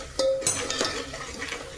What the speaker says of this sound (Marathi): आता मी हलवते.